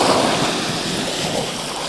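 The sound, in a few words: sea waves at high tide on a beach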